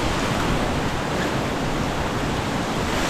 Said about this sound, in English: Such a cool waterfall.